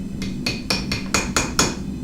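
Hammer blows ringing on a steel knife blank during rough shaping of a ram's head knife at the forge, six sharp metallic strikes in a steady rhythm about a quarter second apart, close and alone.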